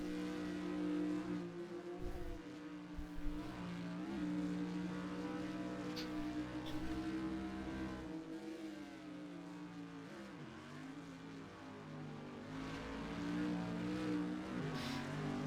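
GT4 race cars, among them a BMW, lapping Virginia International Raceway in Assetto Corsa, with a steady droning engine note that rises and falls through gear changes and corners, loud and close the whole time.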